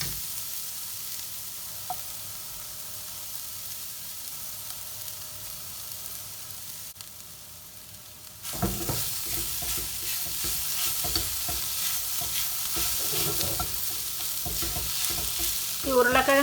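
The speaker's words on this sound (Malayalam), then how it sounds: "ഇനി നമുക്ക് ഈ ഉരുളക്കിഴങ്ങ് ഇതിലേക്ക് പൊടിച്ച് ചേർക്കാം" Mashed potato being stirred into a tender jackfruit cutlet mixture in a pan: a quiet, low hiss for the first half, then louder scraping, stirring and sizzling from the pan with irregular knocks of the spoon, close and without talk.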